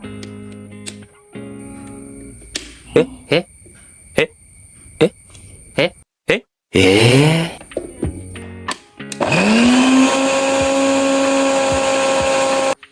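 An electric mixer grinder starts with a rising whine and runs loudly for several seconds, after a short earlier burst and scattered kitchen clicks.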